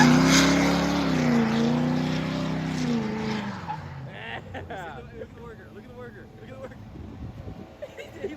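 A squatted pickup truck does a burnout, its tires letting out a loud wavering squeal that fades after a few seconds into engine rumble and scattered noise.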